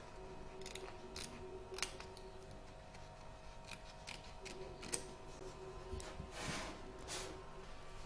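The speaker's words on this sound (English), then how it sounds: "You're now going to trim the excess fabric from around the mouth." Scissors trimming excess appliqué fabric around a T-rex mouth: faint, sparse snipping clicks spaced irregularly over a quiet background hum, close but soft, with no talking.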